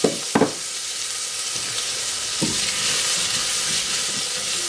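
Chopped white onion sizzles steadily in hot oil in a pan, a constant close frying hiss with a couple of soft knocks at the start and no talk.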